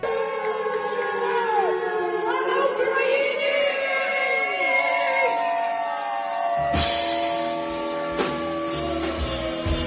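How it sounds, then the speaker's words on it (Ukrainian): An air raid siren wails with rising and falling sweeps inside a concert hall during a musical performance, the loud, continuous tone filling the room, and a sharp crash of band noise cuts in partway through while the siren keeps sounding. "під час свого музичного перформансу попросила увімкнути в залі повітряну тривогу"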